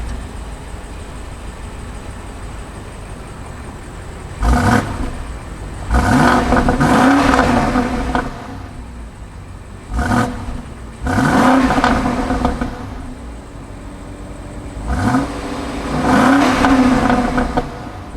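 A 2021 BMW X6 M50i with a 523 hp engine revs hard through its quad exhaust outlets. Three loud, separate bursts rise and fall with short idling pauses between them, and no voices are heard.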